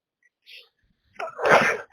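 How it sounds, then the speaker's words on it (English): A single sharp sneeze after a short intake of breath, close and loud, with nothing else around it. "sorry, I sneezed again"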